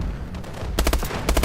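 Rapid bursts of heavy-bullet gunfire in Call of Duty: Advanced Warfare, loud close shots in quick succession after a short lull, fired in two clusters.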